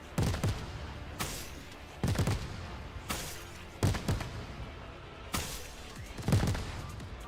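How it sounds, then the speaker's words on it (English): Bombs detonating in a video game: a series of about six heavy booming blasts at irregular intervals, each one loud and close with a rumbling tail. "The bombs you detonate are fusion."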